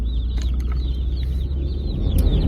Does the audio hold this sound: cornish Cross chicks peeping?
yes